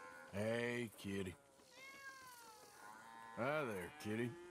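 A cat in Red Dead Redemption 2 meows several times, with drawn-out, rising and falling cries close by, separated by brief pauses.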